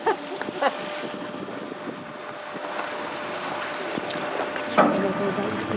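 A boat out on the water in Scotland, with wind buffeting the microphone in loud gusts over a steady rushing drone and a few sharp knocks.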